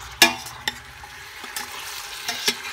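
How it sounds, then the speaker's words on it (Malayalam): Chicken sizzles softly in a pan while a utensil stirs it, with a few sharp scraping clicks spread across the low frying hiss. "ചിക്കൻ ചേർത്തതൊന്ന് ഇളക്കാം."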